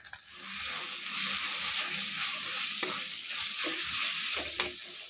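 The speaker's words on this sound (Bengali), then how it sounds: "মশলাটা আমি একটু কষিয়ে নিয়েছি।" Turmeric and chili powder masala sizzles steadily in a pan with a soft, continuous frying hiss, punctuated by a few faint stirring scrapes, close and alone without voices.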